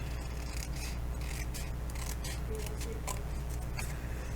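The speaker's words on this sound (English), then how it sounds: "Wedge the corner, wedge to the score line, and then cut this piece away." Scissors cut a paper piece away while a small library card envelope is made, with a run of quiet, close snips and rustles over a steady low hum.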